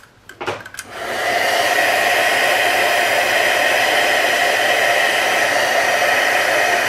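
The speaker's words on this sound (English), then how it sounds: "Now we're going to emboss this. Heat emboss." After a few brief handling clicks, a heat embossing tool switches on and blows hot air onto a stamped card in a loud, constant, close rushing roar that holds steady to the end.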